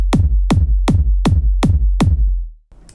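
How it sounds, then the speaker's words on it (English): Layered kick drum from a hardstyle-leaning remix drop, blending a punchy low body with a clicky attack, struck six times at a steady, even pulse, loud and alone, then cut off into brief noise. "So that's the kick. Together it sounds like this."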